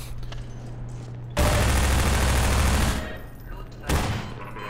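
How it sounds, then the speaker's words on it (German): Sustained machine gun fire from a Half-Life 2 firefight, a loud dense burst of rapid shots running for about a second and a half, easing off, then a second short burst near the end. "ich gehe zum normalen Maschinengewehr über"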